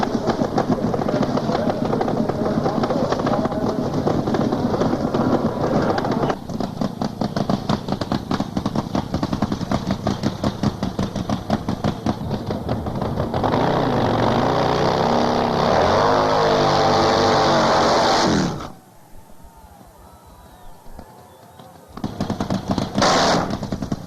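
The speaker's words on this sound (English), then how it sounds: "his beautiful bike, the Chrome Horse, with 2 engines." Twin-engine Chrome Horse top fuel drag racing motorcycle from the early 1990s, a loud sustained engine roar with rising and falling pitch that cuts out abruptly near the end, then briefly returns.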